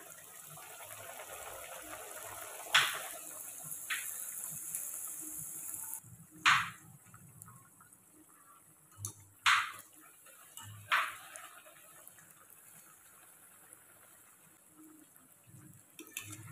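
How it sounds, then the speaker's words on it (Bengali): Sattu kachoris deep fry in hot oil, a soft continuous bubbling hiss broken by several sharp louder splashes and crackles as pieces are dropped in or turned, with no voices. "তেল গরম হয়ে গেছে, এবারে বেলে রাখা কচুরিগুলি দিয়ে দেব।"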